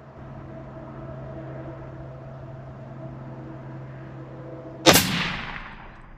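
A long-range rifle fires a single sharp shot near the end, cutting through a faint steady hum and followed by a short decaying echo.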